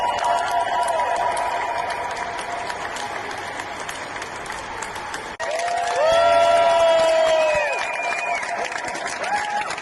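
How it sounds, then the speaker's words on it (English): A crowd applauds Ukrainian soldiers, sustained dense clapping with some cheering throughout, loud and continuous, with tonal whistles or voices rising over the applause in the second half. "You see that the applause never stops"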